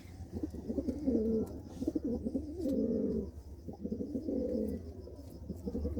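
Pigeons coo in repeated soft, throaty bursts, close by and steady, with no talk over them.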